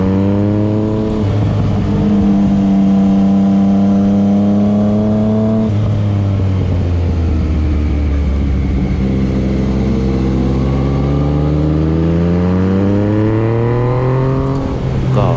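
A Yamaha MT-09 motorcycle on the winding Doi Suthep mountain road accelerates hard under heavy throttle, its engine note climbing, dipping and climbing again through gear changes, loud and close throughout with no talking.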